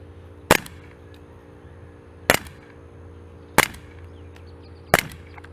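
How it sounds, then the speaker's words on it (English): Four sharp pistol shots from a Colt 1911 fired outdoors at cans, evenly spaced over a few seconds, each a loud crisp crack with a short echoing tail over a quiet background hum. "Okay, I'm shooting those two cans right there."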